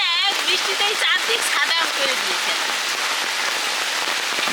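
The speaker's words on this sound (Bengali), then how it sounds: "প্রচুর বৃষ্টি হচ্ছে" Heavy rain pours steadily in a wide, continuous hiss on the surfaces nearby, with a person talking over the downpour in the first couple of seconds.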